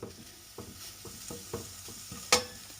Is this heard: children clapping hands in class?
no